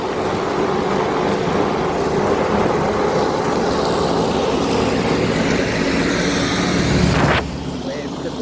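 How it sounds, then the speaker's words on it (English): Steady engine and road noise from a vehicle on a country road, loud and continuous, with a brief swelling whoosh near the end as a tractor is passed; talk is audible underneath. "Coming up on a tractor here, I think we're going to lose audio quality for a second."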